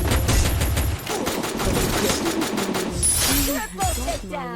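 An M19 pistol fires in rapid succession in a video game, loud sharp shots packed closely over the first few seconds, followed by fading game effects and tonal sounds at the end.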